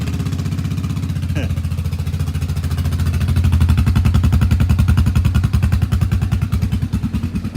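A Kawasaki KFX700 ATV engine runs after a water-spitting start, suspected bad head gasket or cracked cylinder head; close, loud, rapid rhythmic exhaust pulses throb steadily, with a faint brief tone early on.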